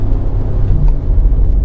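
A 2019 Mercedes-Benz G550 V8 truck heads into a turn. Its engine and road noise make a loud, low, steady rumble throughout the short stretch, with no talking.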